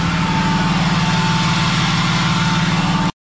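Cummins 5.9 diesel in a 2003-2007 truck idles steadily after injector replacement, a loud, close, continuous low rumble with an even rhythmic knock and no talk.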